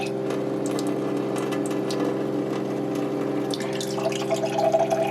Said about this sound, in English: Once the water gets pushed through the membrane, it'll then go through and come out the test tap, which is in the sink.